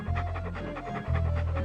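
A dog panting in the game Monkey Island 2: quick, rhythmic breaths, close and loud, over a low steady background hum, with no talk.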